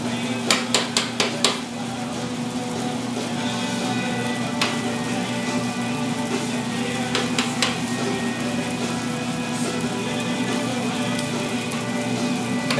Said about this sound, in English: all the beans inside the drum are cracking